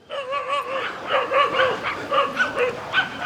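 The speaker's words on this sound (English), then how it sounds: "some dogs barking over there" A dog barks in a quick run of yips and high-pitched bow-wows, loud and fairly close, with one bark right after another.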